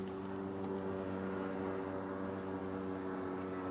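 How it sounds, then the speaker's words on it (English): A jet ski on a river, heard from an anchored fishing boat during a summer daytime flathead outing, makes a steady droning engine hum that holds at a constant level throughout. "I got a jet ski coming."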